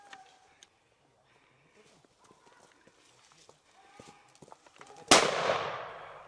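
A single loud, sharp gunshot cracks out near the end of a wild boar hunt in vineyards and scrub, following quiet outdoor rustling and scattered soft sounds.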